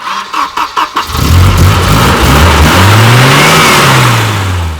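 The original non-turbo 2 litre B200F engine of a Volvo 940 project car cranks after a few quick pulses, then fires and runs, revving and rising and falling in pitch, loud and close.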